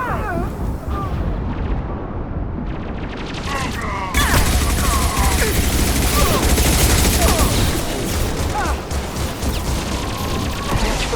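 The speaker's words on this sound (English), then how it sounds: "Firing a high impact shot." Heavy gunfire and impact blasts in the Mass Effect 2 video game, including a high-impact shot, form a dense, loud, continuous barrage that swells even harder partway through.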